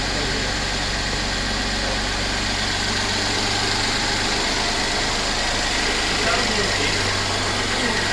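A Mercedes-Benz E350 with the M276 engine idles after its timing chain tensioners were replaced. It gives a steady, loud, even hum with no rattle, running unbroken throughout.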